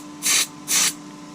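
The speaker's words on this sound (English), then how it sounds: "we'll get some of this circuit board cleaner and clean some of that flux off" Two short, loud bursts of circuit board cleaner sprayed from an aerosol can onto a GPS unit's board to wash off flux, each hiss lasting about a quarter second with a brief gap between.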